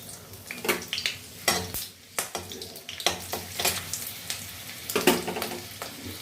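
Chillies fry in refined oil in a pan, crackling and sizzling up close while a spoon stirs and scrapes the pan in uneven bursts.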